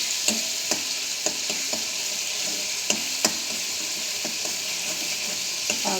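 Soya chunks curry with ginger fries in a pan, giving a constant soft sizzle with scattered sharp clicks of a spoon stirring against the metal, close and without talk.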